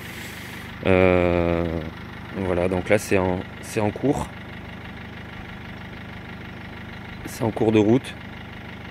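A car engine idles steadily in the background with a constant low hum during a particulate filter cleaning, while someone talks over it in short bursts.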